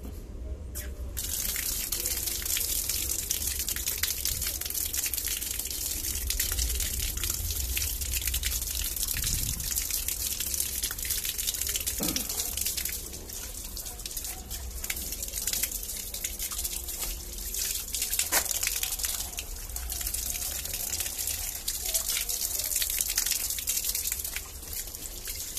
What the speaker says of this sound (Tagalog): Tapos, buksan nyo ulit yung tubig.